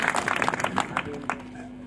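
A crowd at a Hindu gathering in India breaks into brief, dense clapping that swells and then thins out within about two seconds.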